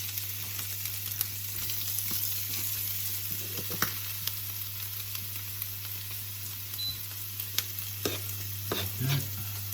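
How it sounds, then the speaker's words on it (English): Garlic, chilli and ginger fry in a pan with a quiet, continuous sizzle, broken by a few soft spatula taps and scrapes, over a steady low electrical hum, with no speech. "And then I'm just going to pop in for a couple of minutes, no more, probably less than a minute, my garlic, my chilli and my ginger."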